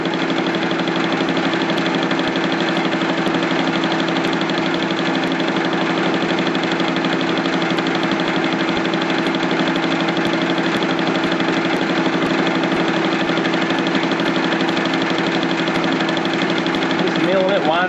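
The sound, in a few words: milling machine cutting a spacer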